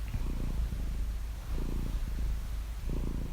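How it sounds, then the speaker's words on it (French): A cat purrs close up in steady low rumbling cycles, with each breath marked by a slight pause between swells, three drawn-out purr phrases in a row. "C'était le ronron d'un chat et évidemment c'est un son hyper relaxant."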